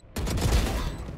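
Gunfire in Valorant rattles in a dense, loud burst of rapid shots that continue almost without pause for about a second.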